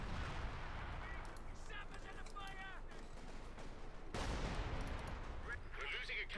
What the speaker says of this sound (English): Artillery fire there